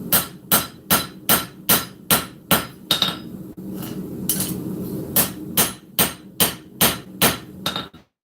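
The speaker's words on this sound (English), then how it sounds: "Now I'm kind of forging in a distal taper towards the tip." Hammer blows forging a distal taper toward the tip of a full integral knife blade, a steady run of sharp, loud metallic strikes, then a brief pause with softer shuffling before the rhythmic hammering resumes.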